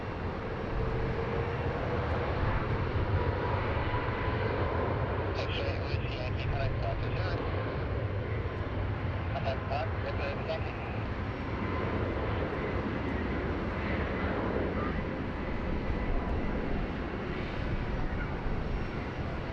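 A Fiji Airways airliner departs Sydney Airport, a steady distant engine roar filling the whole stretch while a voice talks over it.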